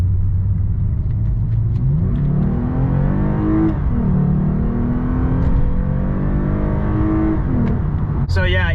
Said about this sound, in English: It's got that nice aftermarket exhaust, and the V6 itself sounds really nice.